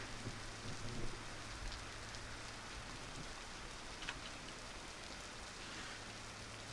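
Steady rain of a storm in the video game Beast of Bermuda, a dense continuous wash with a faint low rumble of thunder beneath, one soft swell near the start and a brief crackle midway.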